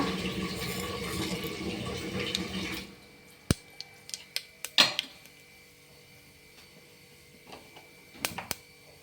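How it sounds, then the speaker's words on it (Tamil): Mustard seeds in hot oil give a steady broadband sizzle for a few seconds, then fall into quieter hissing broken by scattered sharp pops and crackles as the seeds burst in the pan. "கடுகு பொரிட்டோம்"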